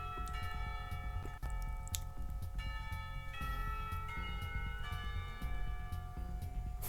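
A Westminster clock chime in the Katawa Shoujo video game, sustained ringing bell tones that change pitch in a slow sequence over a soft ticking background, moderately faint, with no voices.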